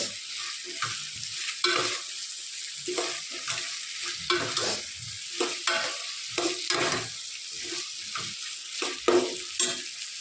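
Ginger garlic paste sizzles in a pan for mutton curry while a spoon stirs it repeatedly, giving steady frying hiss broken by rhythmic scraping strokes close by.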